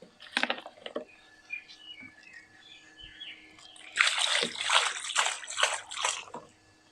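Wet scrubbing on the carpet of a 1971 Toyota Celica: a scrubber swishes and sloshes in bursts close up, first briefly, then in a louder rhythmic run of strokes after a quiet pause.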